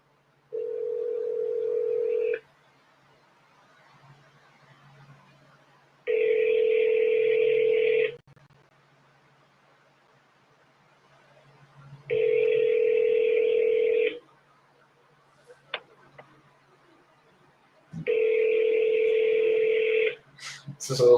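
A phone call rings out: four evenly spaced two-second ringback tones separated by pauses, clear and moderately loud, with faint voices between the tones and a short clatter at the end.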